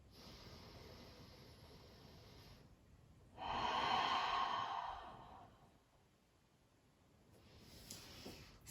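Slow, deep breathing during a gentle yoga flow: a long audible exhale in the middle flanked by softer, quieter breaths, close and intimate against a faint hiss.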